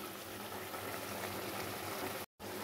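Prawn kofta curry gravy boiling in a pot, a steady close bubbling hiss that runs unbroken apart from a brief cut near the end, with no talk.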